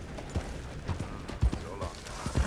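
A horse in Red Dead Redemption 2 clip-clops along after its rider urges it on, irregular hoof thuds that are fairly faint and spaced out under a quiet background.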